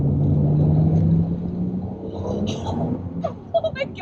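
An XR6 Turbo Barra engine in a Ford ute strains through a third gear pull on a dyno, its loud droning rumble rising in pitch and then fading, with a voice speaking over the end.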